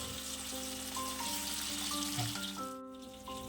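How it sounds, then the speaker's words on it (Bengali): Katla fish frying in hot mustard oil on a low gas flame gives a steady, close sizzle with faint crackle, alone and fairly quiet. "গ্যাসের ফ্লেম লো রেখে কাতলা মাছগুলো তেলের মধ্যে দিয়ে দিতে হবে।"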